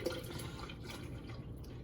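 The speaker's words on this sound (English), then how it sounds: "So we're going to pour 2 liters of milk" Milk pours into a shaker bottle in a soft, continuous liquid trickle with a faint gurgle, quiet and close, no one talking.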